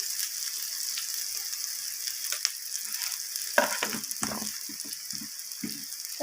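Chicken curry masala sautéing in a pan, a soft continuous sizzle with scattered scraping and stirring clatters from a utensil, fairly quiet and close.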